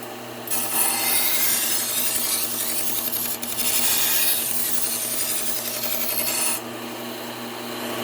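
A sharpened kitchen knife is pressed against a spinning Scotch-Brite wheel for deburring, a continuous loud abrasive hiss and rasp lasting about six seconds with a brief dip midway, then the wheel's hum alone.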